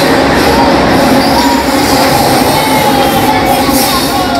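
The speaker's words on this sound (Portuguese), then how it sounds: "No final tem uma locomotiva assim, como sempre acontece com trens longos, olha aí, ó, ajudando a empurrar." A long freight train with a pushing locomotive at the rear rumbles past nearby in Limeira, Brazil, with a loud continuous roar of wheels on rails and faint squeals throughout.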